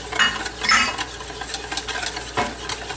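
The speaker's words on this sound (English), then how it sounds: "I'm going to put it over a double boiler and whisk the bejesus out of it" Pastry cream is whisked hard over a double boiler, a fast, continuous metallic scraping and clinking of a whisk against the bowl, close and fairly loud, with no voices.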